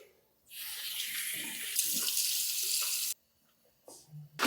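A bathroom tap runs steadily for about two and a half seconds while a face is being rinsed, with a soft hiss, then shuts off, followed by faint splashes and handling noises.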